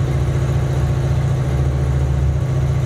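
Honda VFR800 motorcycle from 2014 idling while its exhaust warms up, a steady close low rumble that holds evenly throughout with no revving and no voices.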